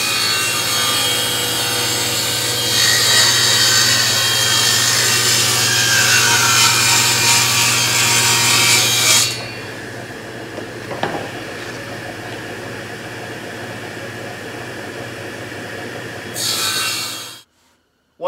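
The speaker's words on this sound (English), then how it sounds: "I'm loving this saw" Hand saw ripping through wood for a cutting board, a loud, steady rasping of continuous strokes that drops to quieter scraping midway, then a brief final burst before stopping.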